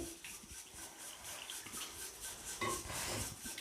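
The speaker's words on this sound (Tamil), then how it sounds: "இன்னும் கொஞ்சம் தண்ணி ஊற்றி" Water is poured onto soaked tamarind while making pepper rasam, a soft continuous trickle and splash, quiet and close, with no talking.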